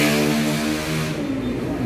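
A Premium 9 motorcycle engine revs hard and close, a loud buzzing drone that rises and then drops off as the throttle eases, with no voices.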